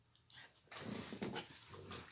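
Household dogs barking and whimpering indoors, a few close, fairly loud yelps and barks in quick succession over a couple of seconds.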